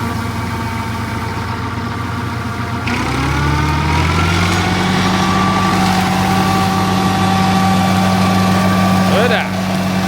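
The diesel engine of a Massey Ferguson 35 tractor runs steadily while mowing a lawn, a loud, close, throaty drone whose pitch rises and settles as it revs up partway through.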